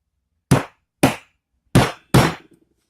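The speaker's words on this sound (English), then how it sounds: "I'm going to hit it with a hammer." A hammer strikes a metal weapon tip made from scrap weed-eater parts four times, each blow a sharp, close metallic crack with a short ring. The first two are evenly spaced, and the last two land faster.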